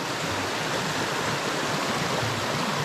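Water gushing steadily from a garden hose laid across a vegetable plot, a continuous broadband rushing hiss, close and loud, with no voices.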